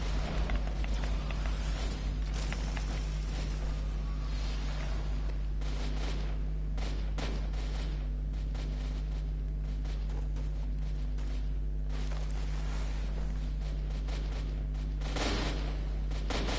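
An automated turret in the Roblox game Drill to Earth's Core fires rapid, sustained bursts of shots over a constant low engine-like drone, with dense cracking volleys that thin out briefly and then resume.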